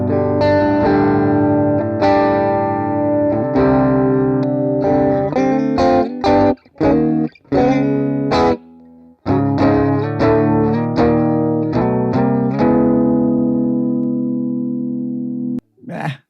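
An electric guitar plays through a modeled Fender Pro Junior amp in AmpliTube 5. It sounds loud and slightly driven, with strummed chords and short choppy stabs that ring out into a sustained final chord and then stop. No voices.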